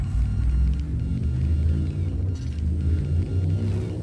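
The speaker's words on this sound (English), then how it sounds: "Frameshift drive charging" A spaceship's frameshift drive charges in Elite Dangerous, a deep, heavy rumble with a throbbing low drone that holds steady and loud for several seconds, no voices over it.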